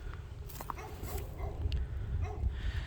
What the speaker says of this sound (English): we got a nice barky dog next to us, so we'll be listening to that dog probably for the remainder of this episode